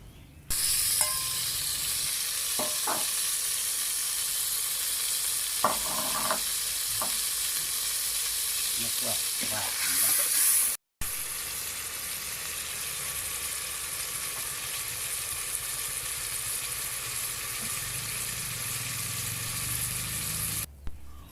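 Snails stir-fried in a spicy sauce sizzle steadily in a pan, a continuous bright frying hiss with occasional light clinks of stirring, briefly cut off midway then resuming unchanged.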